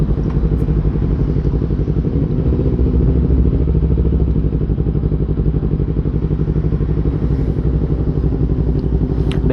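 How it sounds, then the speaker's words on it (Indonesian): A Yamaha R25 two-cylinder motorcycle fitted with a DX Generation exhaust idles close and loud, a constant rapid pulsing thrum that holds steady without revving for the whole stretch. "Gue pakai DX, knalpotnya DX Generation."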